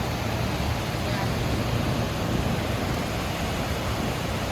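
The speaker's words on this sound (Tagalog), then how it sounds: "Lakas ng ulan, promise." Heavy Sunday-night rain during a thunderstorm in Kuwait pours down as a steady, loud, unbroken wash of noise that fills the whole stretch without pause.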